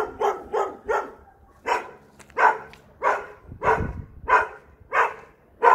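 Dogs bark in a steady series of about a dozen sharp, loud barks at fairly even intervals, close by on an early morning walk near a camp, with no voices.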